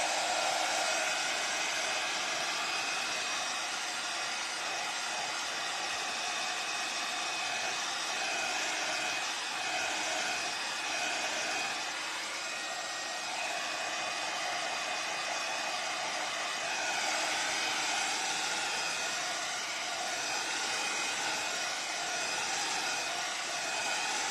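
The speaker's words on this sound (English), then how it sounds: "I'm going to dry it. Where's my drying tool?" A hair dryer blows steadily and close by as it dries Posh Chalk stencil paste on a wall sample, a constant whooshing hum that barely wavers throughout.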